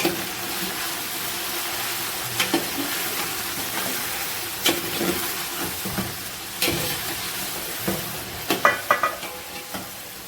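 Chicken biryani mixture is stirred in a large pot, with a spoon scraping and clinking against the pot in irregular bursts over a low, steady sizzle and bubbling. No one talks.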